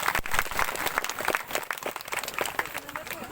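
A village crowd gives the committee members a round of loud, irregular clapping that rises and thins in uneven bursts, with some voices mixed in underneath.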